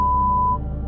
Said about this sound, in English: I'll beep their last names out